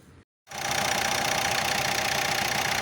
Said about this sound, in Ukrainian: Тепер заводимо двигун, дивимося, що буде далі.